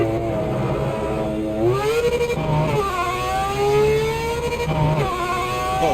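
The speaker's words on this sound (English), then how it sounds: "I might have to turn down the game engine sound." A race car engine in the Project Motor Racing video game revs repeatedly, its pitch climbing through the gears, easing off, then climbing again over six seconds, loud and close with no talk.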